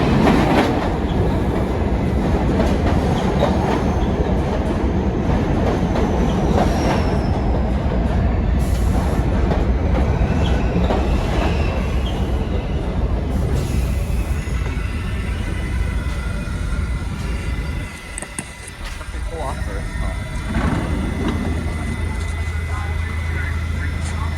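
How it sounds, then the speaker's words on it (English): A subway train pulls into a station and rolls past, a loud steady rumble with clickety-clack from the rails that eases near the end. Voices are heard under the noise. "here comes our next train"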